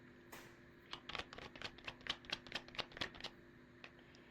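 Cards handled and shuffled for a tarot-style reading, a quick run of light crisp flicks and snaps in a close, quiet room, about a dozen in a brisk rhythm.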